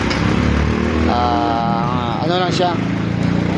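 A rebuilt Toyota 2GR engine, freshly through a general overhaul and running with one damaged ignition coil removed, idles with a steady, close rumble while someone talks over it.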